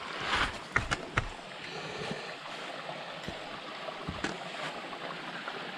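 Creek water flowing along a hiking trail, a soft steady rush and trickle close by, broken by a few sharp splashes or knocks near the start and again later.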